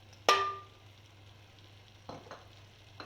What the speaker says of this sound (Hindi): अब इसमें डालते हैं प्याज, अदरक लहसुन का पेस्ट